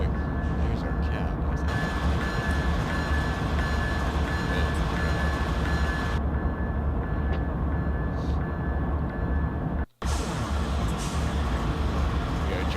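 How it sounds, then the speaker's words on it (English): A steady, loud rumble of a 70-car stack freight train in a train simulator game, rolling continuously over Marias Pass from Shelby toward Whitefish Yard, with a brief cut near the end before the droning resumes. "Driving a 70 car stack train all the way from Shelby to Whitefish Yard."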